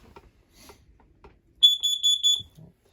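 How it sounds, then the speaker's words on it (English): A carbon monoxide alarm mounted on the wall of a 2015 Keystone Springdale 2600 TB RV trailer sounds a rapid series of about seven shrill, close beeps, after quiet moments with faint background noise. "up on the wall here, you've got your carbon monoxide alarm. It's going to go again."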